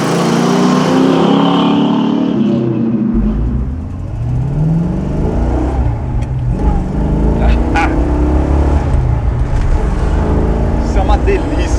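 A Dodge Charger with a 7.2-litre V8 Big Block of about 375 hp and a short differential ratio accelerates, its engine note rising and shifting in loud, close sweeps while someone talks over it.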